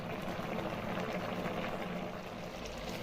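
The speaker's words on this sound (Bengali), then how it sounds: "একটু ভালোভাবে ফুটিয়ে নিতে হবে" A carrot halwa mixture bubbles and simmers in a pot, giving a steady, dense hiss of boiling that stays even and close throughout, with no voices.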